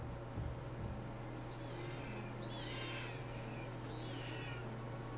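A freed bird in The Legend of Zelda: Skyward Sword gives faint, chirping calls in two short bursts over a steady low electrical hum.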